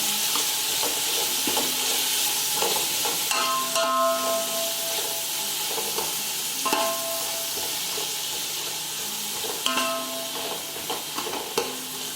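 Tomatoes hit a hot pan and fry with a steady sizzle, stirred with repeated scraping clicks and clanks of a utensil against the pan, close and fairly loud with no talk.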